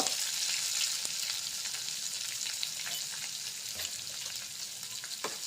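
Cumin, mustard seeds, curry leaves, chopped green chillies and asafoetida crackle and sizzle in hot oil for a Marathi curd raita tempering, a steady close frying hiss with scattered pops and spits throughout, no voices.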